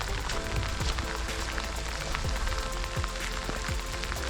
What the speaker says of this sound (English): No rain was forecast today. This is now tippling, although not dampening spirits.